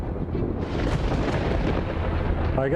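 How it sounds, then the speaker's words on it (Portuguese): A deep, continuous rumble of thunder rolls steadily throughout, loud and sustained, with a faint higher tone appearing near the end. "ouvi o barulho dos raios ao longe"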